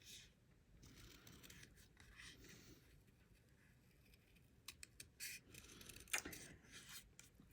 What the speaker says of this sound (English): I prefer small detail scissors.